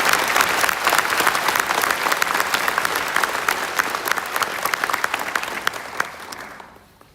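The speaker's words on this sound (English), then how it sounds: "Let's give them a big round of applause." Graduation ceremony audience at NC State giving sustained, loud applause, many hands clapping densely for several seconds before fading out at the end.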